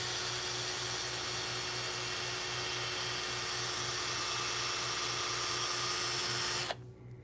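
Steady high-pitched whine of a polisher spinning a buffing pad on an aircraft stabilizer, holding a constant drone for several seconds before cutting off abruptly near the end.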